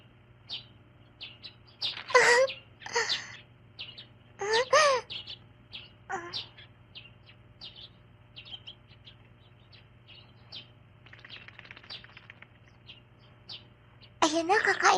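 Small birds chirp and tweet in short bursts around a rooftop in the morning, several loud close calls separated by quieter gaps, with a low steady hum beneath.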